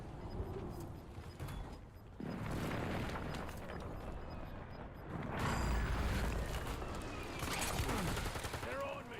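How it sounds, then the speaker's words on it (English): Airstrike explosions in Call of Duty Warzone on Rebirth Island, a dense run of gunfire with heavy booming blasts swelling around the middle and near the end, steady and close, with faint voices underneath. "We're just gonna keep calling in airstrikes"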